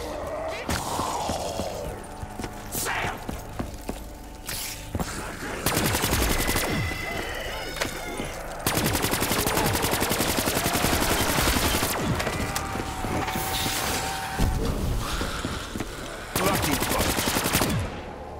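Gunfire in the video game Call of Duty: Black Ops III, with long bursts of rapid automatic fire and scattered single shots plus impacts, loud and dense throughout.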